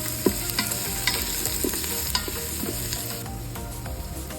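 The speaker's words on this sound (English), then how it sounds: "We saute for a few minutes." Chopped onion and minced garlic sizzle steadily in hot oil inside an Instant Pot, with occasional scraping stirs over a constant frying hiss.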